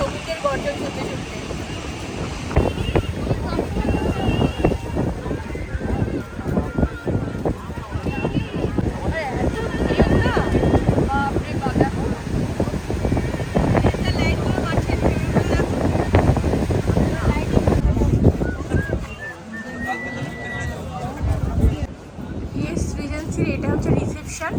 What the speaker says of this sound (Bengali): এখানে সমুদ্রের গর্জন।